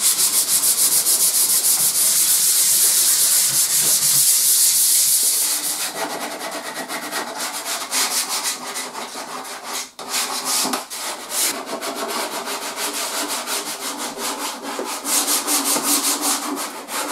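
Fine sanding of a handmade wooden bench before painting: a steady, close, loud abrasive rub that softens after a few seconds into continuous scratchy strokes.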